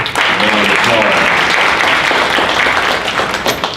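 Audience applauding panelists at a morning talk on trauma and mass incarceration, a steady, dense wash of clapping that holds loud for about four seconds with some voices mixed in.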